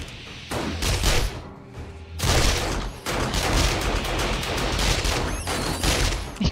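Gunfire in the video game 7 Days to Die during a horde night fight, with dense, rapid bursts of shots and booms rattling almost nonstop at close range, without speech.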